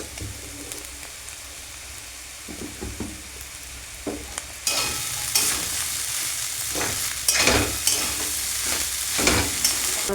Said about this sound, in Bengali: এগুলো সমস্ত কিছু ভাজা হয়ে গেছে, এবার আমি পাস্তাটা দিয়ে দেব।